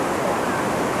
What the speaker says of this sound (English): what an amazing waterfall